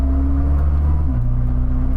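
A hypercar engine droning steadily from inside the cabin, its low tone dipping briefly as a gear shift goes through, loud and continuous with no voices.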